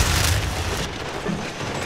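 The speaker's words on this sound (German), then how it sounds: "Granate!" A grenade explodes in a Modern Warfare 3 multiplayer match, a heavy low boom that swells at once and then fades into a rumbling, noisy tail, with no voices over it.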